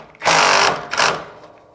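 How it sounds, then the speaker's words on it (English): A Milwaukee electric ratchet spins an 8mm bolt in two loud, close bursts of whirring motor, the first lasting about half a second and the second shorter. "I'm going to use my Milwaukee ratchet with an 8"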